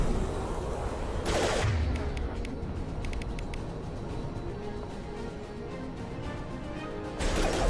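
Sustained automatic gunfire in Mass Effect 2 on Insanity difficulty, a dense, loud rattling barrage lasting several seconds with crashing impacts, bracketed by brief bursts of noise at the start and end.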